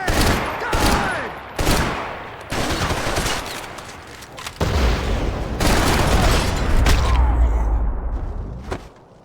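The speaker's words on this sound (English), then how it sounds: "Gunfire over Hoboken." Sharp bursts of gunfire ring out in quick clusters in Max Payne 3, followed by a heavier, rumbling barrage of rapid shots, loud and close.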